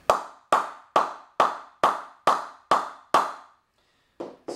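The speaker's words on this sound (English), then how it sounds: "I'll just give it a bit of a ping so you can actually hear what the ping of the bat's like" An SG Triple Crown cricket bat tapped with a ball, giving eight evenly spaced sharp woody pings with short ringing decay, then a brief pause and two softer taps, close and alone with no talk.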